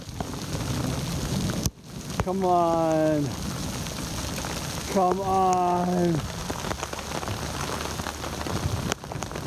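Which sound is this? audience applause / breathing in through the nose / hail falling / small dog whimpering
hail falling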